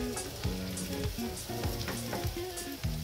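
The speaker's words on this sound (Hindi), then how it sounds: "अब इसमें डाल देते हैं कटा हुआ प्याज जिसे हमें गुलाबी होने तक इसे भी कुक करना है" Chopped onion fries in a pan, a continuous close sizzle and crackle with repeated scraping stirs and soft clinks keeping an uneven rhythm, and no one speaking.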